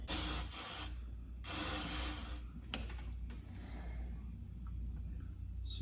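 Aerosol cleaner sprayed into the open throttle body of an Asuna Sunfire during a restoration, two hissing bursts of about a second each, close up, followed by a brief click and quieter hiss.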